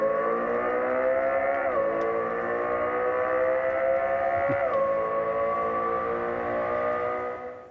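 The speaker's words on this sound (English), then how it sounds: "the Lexus LFA V10 sound simulation available on demand" Simulated Lexus LFA V10 engine note played inside a 2027 Lexus TZ electric six-seat SUV, a steady tonal drone that dips in pitch at two simulated gear shifts before fading at the end.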